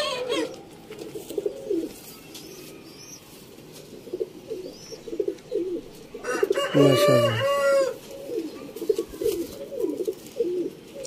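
Rampuri Ali wala pigeons kept for sale in Sialkot, cooing in low repeated rolling bursts close by, with a rooster crowing midway and someone speaking briefly over them.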